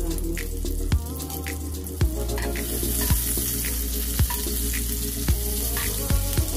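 Garlic frying in oil and butter for creamy garlic chicken, a steady close sizzle with periodic scraping stir knocks about once a second.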